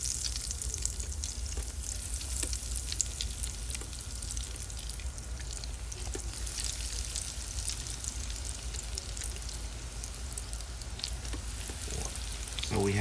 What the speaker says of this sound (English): start putting onion rings into the oil here